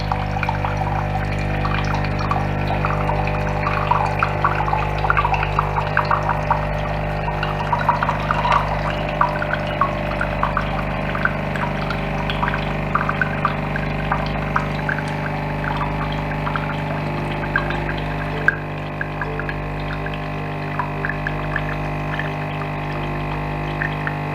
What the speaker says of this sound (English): Just run that 5 times to wash all the descaler out the in gubbins of the machine.